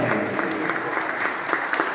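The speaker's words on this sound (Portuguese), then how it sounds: "vamos saudar nossa padroeira, uma calorosa salva de palmas" Congregation applauding its patron saint, Our Lady of the Pillar, at a parish novena in Ouro Preto: a warm, steady round of clapping from a crowd, with faint voices underneath.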